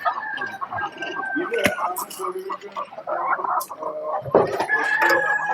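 Native country chickens cluck and chatter nearby while a rooster crows once, with scattered clucks overlapping through the yard.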